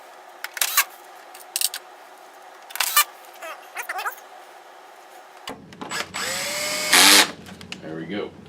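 A power drill drives screws into a Christie DHD670-E projector during repair, with several short, close bursts of whirring, then a longer buzzing run near the end and a final sharp burst.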